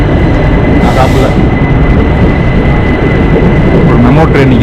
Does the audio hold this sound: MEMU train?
yes